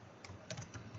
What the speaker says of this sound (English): So if I type in